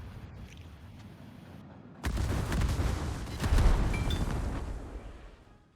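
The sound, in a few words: battleship guns firing in video game World of Warships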